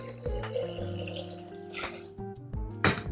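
Dissolved sugar and honey are poured into water, a close splashing, trickling stream rising and falling in short bursts over a steady watery rush, with no talking.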